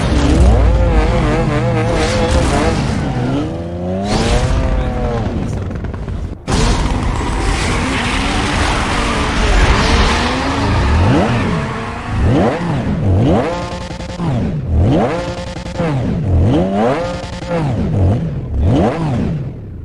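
Race-car engine in the Need for Speed video game, revving hard and climbing through repeated gear shifts, with tire squeal and skidding; loud and continuous throughout, with one abrupt break partway.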